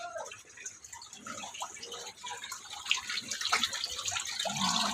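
Water runs for cattle to drink while laborers work nearby. It gives a soft, continuous splashing and trickling that grows slightly louder toward the end, with faint voices in the background.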